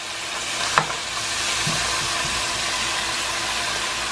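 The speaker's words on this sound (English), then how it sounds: "Love that sizzle." Chicken sizzles in olive oil in a hot pan, a steady crackling hiss with a single sharp clink of a utensil near the start, heard close and alone.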